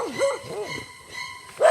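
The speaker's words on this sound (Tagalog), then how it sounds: "May aso." A dog barks in short, loud bursts, a few yips with a pause between them and a final bark at the end, heard near and alone without talk.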